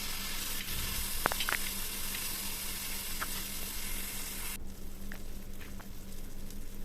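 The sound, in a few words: chopped onions being sautéed in a pan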